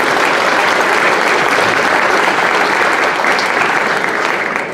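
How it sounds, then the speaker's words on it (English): Loud sustained applause from a large audience at the Ag Days 2023 opening presentations, a dense continuous wash of clapping that stays steady and starts to fade only at the very end. "I think they deserve a round of applause for our appreciation."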